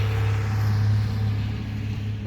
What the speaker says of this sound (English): That truck's so loud.